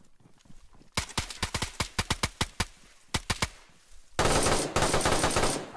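Automatic gunfire in the video game DayZ cracks out in rapid bursts of loud, sharp shots, separated by brief pauses, before a dense, noisy burst of sustained fire closes the exchange.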